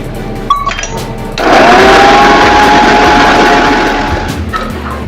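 A mixer grinder starts up with a loud, steady whirring roar, blending coriander and water into green paste, running continuously and fading slightly toward the end, after a few brief clicks.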